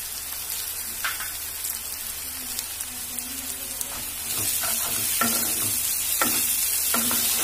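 Salted filling for cheese soya egg rolls stirred in a pan, a steady sizzle with a spatula scraping and tapping the pan at irregular intervals, growing louder partway through.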